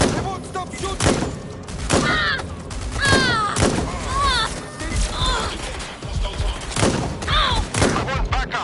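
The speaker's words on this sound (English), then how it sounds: "They won't stop shooting!" Enemy gunfire in Far Cry 6, loud bursts of shots and thuds cracking out repeatedly amid shouting voices and in-game chatter throughout.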